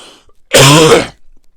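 A single harsh cough, loud and close, rough and throaty, lasting about half a second between stretches of quiet.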